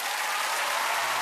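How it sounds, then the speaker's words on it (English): A television studio audience claps steadily for a Matilda the Musical performance, a dense wash of applause at even loudness throughout. "Please give a round of applause"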